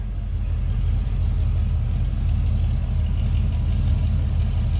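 A 1974 Ford F100 Ranger XLT regular cab pickup with a 460 V8 idles steadily from behind, a deep, continuous low rumble at close range with no voices.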